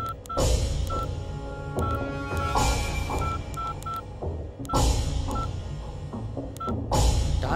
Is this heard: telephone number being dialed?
yes